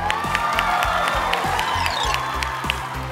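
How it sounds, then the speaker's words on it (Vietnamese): Studio audience on a televised singing competition cheering and applauding a drummer, a dense steady roar of claps and shouts with a band still playing underneath, loud and close throughout. "đề nghị cả nhà cho một tràng pháo tay thiệt là lớn cho cái ông trống đánh hay xuất sắc"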